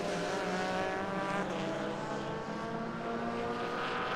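Touring race cars at Zolder circuit in Belgium, among them a Lotus and a Ford Focus, roar past in a close battle, a loud, continuous high-revving engine howl with no break across the stretch.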